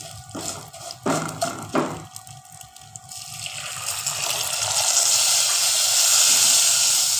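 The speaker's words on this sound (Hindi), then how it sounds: "1 कप पानी डाल दूँगी।" Water is tipped into a pan of ghee-roasted vermicelli: a few sharp clatters at first, then a rising, steady steam hiss and bubbling sizzle that grows louder and fills the last few seconds, with no talking.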